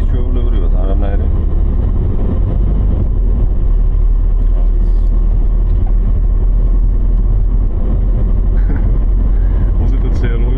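A Mercedes car driving with its engine running with no oil in it, giving a loud, steady low rumble that drones continuously from start to finish.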